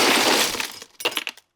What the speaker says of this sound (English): Ice being poured into a cooler, keeping drinks cold for a fun 4th of July picnic.